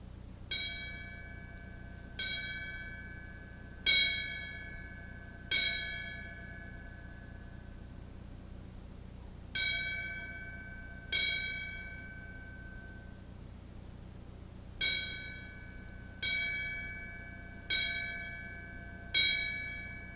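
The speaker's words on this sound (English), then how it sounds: "as far as tolling of the bell for the recruit graduation is 4-2-4" A fire rescue recruit graduation bell tolls in a measured 4-2-4 pattern: four ringing strikes, a pause, two strikes, another pause, then four more. Each strike rings bright and clear with a long decaying shimmer in a quiet room.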